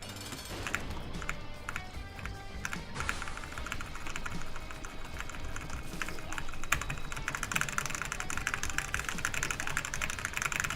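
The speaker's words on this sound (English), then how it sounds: "you can probably hear me mashing on my keyboard since it's mechanical" Rapid, continuous clatter of keys being mashed on a mechanical computer keyboard during gameplay, clicking steadily over a droning game soundtrack.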